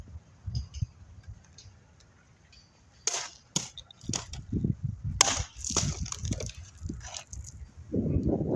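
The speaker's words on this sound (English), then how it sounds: "Bludgeoning test, market Tonfa, 22 inches" A 22-inch wooden market tonfa strikes a target in a bludgeoning test, landing several sharp, cracking wooden impacts spaced irregularly over a low rumbling background, close and loud.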